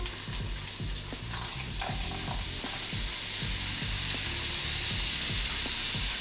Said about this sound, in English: try and spread it evenly in the pan